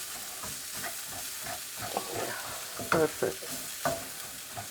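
Perashki filling sizzles softly in a pan over low heat while a spoon scrapes and stirs it in short, uneven strokes; a single brief spoken word comes near the end.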